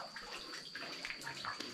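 Fresh spring water seeps from the hillside into a rock-cut tank in front of an ancient Buddhist cave at Aagashiv near Karad, a faint, steady trickle with soft drips in quiet surroundings.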